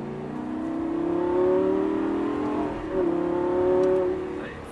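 A Lamborghini Gallardo accelerates hard on the Paul Ricard circuit, its engine note climbing steadily in two rising pulls separated by a brief dip for a gear change, loud and close from inside the car.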